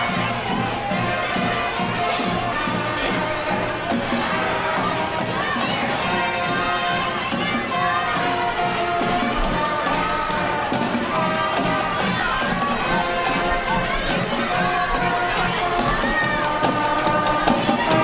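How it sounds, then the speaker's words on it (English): A large crowd lines an evening parade route in Williamsport and cheers steadily, with children shouting and people chattering. Loud, dense and continuous, the noise has talk mixed through it. "The big crowd has turned out."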